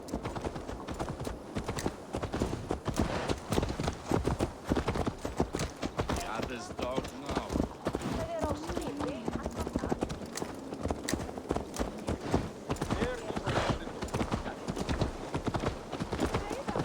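Horse hooves clip-clop steadily in the game Assassin's Creed Valhalla, a close, regular rhythm of hoofbeats running throughout, with occasional whinnies and spoken dialogue over the top.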